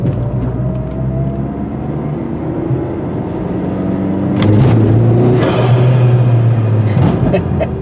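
A turbocharged Chrysler PT Cruiser accelerates hard, the engine climbing in pitch and growing louder through a gear change, heard from inside the car with no talk.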